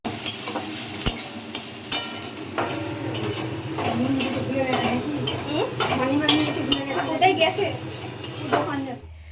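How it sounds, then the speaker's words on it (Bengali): Capsicum frying in a pan on a home stove while chicken pakoras and rice are prepared, a steady sizzle broken by repeated metallic clinks and scrapes of a spatula stirring against the pan, close and fairly loud, with no one speaking. "আর এখানে ক্যাপসিকামটা ভাজা হচ্ছে"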